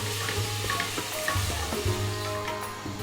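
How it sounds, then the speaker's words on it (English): Sliced onion with ginger, garlic and green chili paste sautés in hot oil, a soft steady sizzle with occasional stirring scrapes, close and moderately loud. "Now add ginger garlic and green chili paste. Saute till the raw smell goes."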